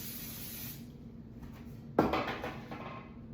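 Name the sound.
spraying canola oil onto a baking pan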